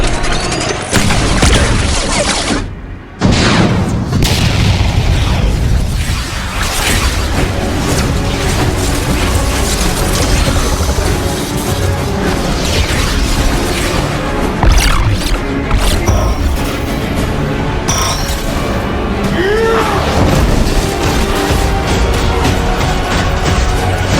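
Sustained, dense blasts and rumbling explosions roar continuously from nuclear detonations in an AI-made Justice League 2 movie scene, loud and layered with mechanical clatter throughout.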